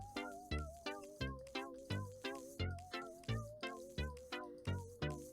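Cartoonish cat meows from the video game Meow World Order, about a dozen short meows repeating in a steady, even rhythm, clear and alone with no talking.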